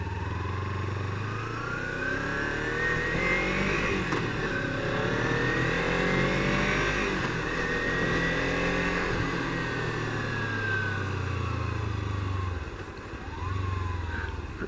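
A Mustang's engine revs in a racing video game, a loud, sustained roar rising and falling through repeated gear shifts before it briefly drops away and then returns.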